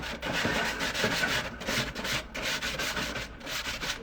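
Balled-up foil scrubbing blackened barbecue grill grids: harsh, scratchy rasping in quick back-and-forth strokes, loud and close, repeating rhythmically without pause.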